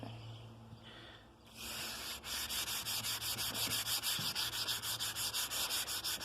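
Oak wood is sanded by hand, starting with soft intermittent rubbing and then settling into a steady rhythm of close, raspy back-and-forth strokes.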